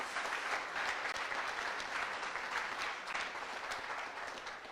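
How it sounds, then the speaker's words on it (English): Sustained applause from an audience honoring staff at a coding bootcamp demo day, steady and dense clapping filling the whole stretch at close range, with no speech over it. "another round of applause for the staff"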